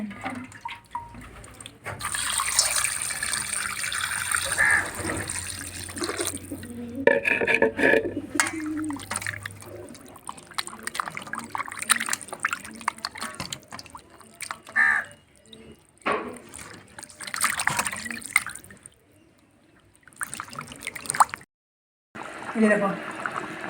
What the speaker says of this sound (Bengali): টপক টপক করে ফুটছে জল